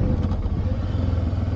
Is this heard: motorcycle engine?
yes